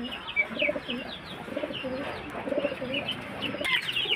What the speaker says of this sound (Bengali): এই যে পায়রাটা দেখুন